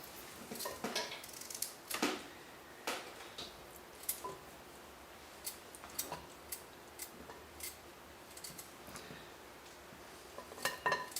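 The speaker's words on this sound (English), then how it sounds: "cutting up a whole coconut like this into little bitty sections" A knife cuts a whole coconut into small chunks, producing faint, irregular crisp clicks and taps spread through quiet stretches, close by, with no voices.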